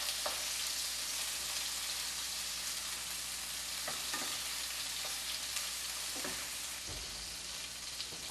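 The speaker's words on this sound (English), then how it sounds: "we're gonna go ahead and add the tomatoes, and we wanna char them on all sides" Tomatoes char in a hot pan with a constant loud sizzle, broken by occasional scrapes and knocks as they are turned. No voices are heard.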